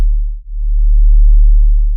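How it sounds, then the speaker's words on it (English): Synthesized riddim bass wub built from two sine waves in Phase Plant: a deep, loud sustained tone that drops out in a brief phase-cancellation notch, then swells back and holds steady. "a wub is basically two sine waves being played at a certain time that cancel each other out."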